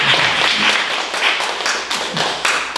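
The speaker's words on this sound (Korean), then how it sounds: "잘 가라고 박수 한번 칠까요?" A church youth group claps together in a continuous wash of many hands, steady and fairly loud for about three seconds with no talking.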